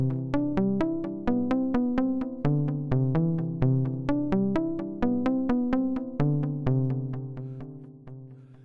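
Modular synth patch with oscillator, filter, envelopes and delay playing a steady sequence of plucky notes, evenly spaced with crisp attacks and short decays, closing on a fading delay tail.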